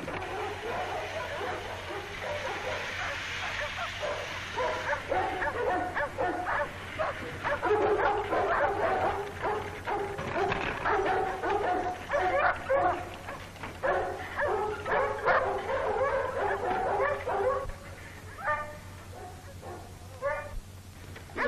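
Several dogs bark, yip and whimper excitedly in quick, overlapping bursts, fairly close and continuous, with a faint voice or two mixed in.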